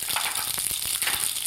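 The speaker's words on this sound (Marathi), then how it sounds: "इथं मी मोहरी घालायची आपल्याला" Mustard seeds sizzle in hot oil left over from frying aubergines for a curry, a close, steady hiss crackling with tiny rapid pops throughout, no voices.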